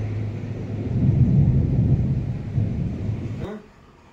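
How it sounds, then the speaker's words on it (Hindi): Low, rolling rumble of distant thunder swelling and fading over a few seconds, ending with a soft click. "बादल गरज रहा है"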